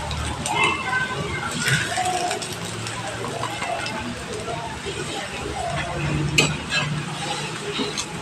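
Curry leaf roti frying in mustard oil in a pan, a steady close sizzle with stirring and scraping clatter throughout, occasional louder clinks, under a light background murmur.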